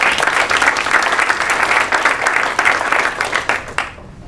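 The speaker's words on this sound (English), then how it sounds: "And now everyone in top 5 deserves applause" Audience applause in a conference breakout session on the Julia package ecosystem, a room of hands clapping steadily and fairly loudly, then tapering off quickly at the end.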